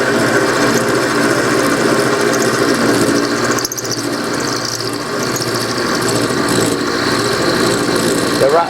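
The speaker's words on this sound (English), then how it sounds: "the rattling noise is the handle on my milling head" A milling machine takes a heavy cut while the handle on its milling head rattles, a loud continuous mechanical roar with vibration and a brief dip partway through.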